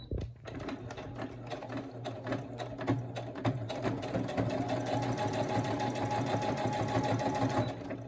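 A sewing machine stitching a chenille baby blanket runs with a steady close mechanical whir and rapid needle clatter, speeding up and holding a continuous hum throughout.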